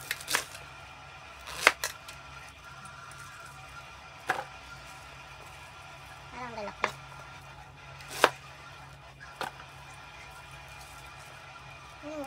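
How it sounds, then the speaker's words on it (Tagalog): Knife chopping vegetables: a handful of sharp, isolated chops spaced irregularly over a quiet background. "tapos ko lang nahiwa ang mga gulay"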